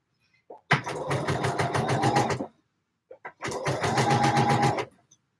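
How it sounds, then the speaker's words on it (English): A sewing machine stitches in two close, fast-running bursts of rapid mechanical clatter, each about two seconds long, separated by a short pause with faint clicks around them. "Let's see if I can sew and talk at the same time."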